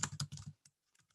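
A computer keyboard is typed on in a quick burst of a few close keystrokes. After a short pause come several softer, scattered taps in a quiet room.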